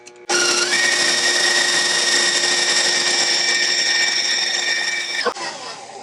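An electric mixer whips egg whites to stiff peaks, a steady loud motor whine running continuously for several seconds before cutting off abruptly.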